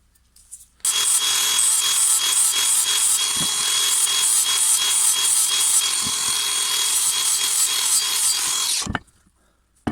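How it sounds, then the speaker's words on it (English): Steady, continuous rasping of a small flat file stroking across a brush cutter blade, bright and scratchy, running unbroken for about eight seconds with a couple of knocks. "I take a little chainsaw file, a little flat file"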